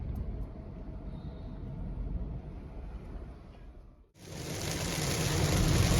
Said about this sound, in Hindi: और अब आप देखिए झमाझम बारिश रास्ते में।